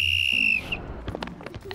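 A teacher blows a single sharp, loud whistle in a school playground, held for about half a second before it cuts off, followed by faint scattered outdoor noises.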